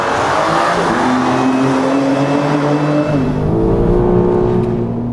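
A BMW M4 accelerates hard through city traffic, its engine note climbing loudly and continuously in pitch, dropping briefly at a gear change, then climbing again, close and dominant throughout.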